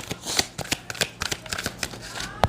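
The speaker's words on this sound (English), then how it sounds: "I'm going to get the 4 cards out before I make an interpretation of the first row." Tarot cards shuffled and drawn during a reading, giving a run of crisp, close card flicks and slaps in quick bursts, loud and distinct with no speech over them.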